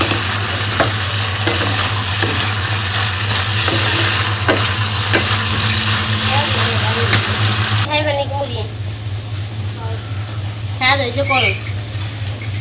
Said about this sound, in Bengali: সবজি তো কষাইতে দিয়েছিলাম সবজি কষানো প্রায় হয়ে গেছে